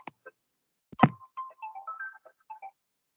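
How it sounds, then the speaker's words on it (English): A phone ringtone interrupts a soft computing lecture: a faint, sparse electronic melody of short tonal beeps after a sharp click, heard alone at low volume. "I have got a phone call."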